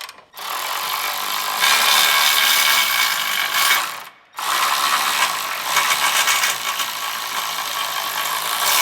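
A ratchet loosens 19 mm bolts on a Honda Civic Type R FL5, giving two long runs of rapid, loud, close clicking separated by a short pause, with no talking.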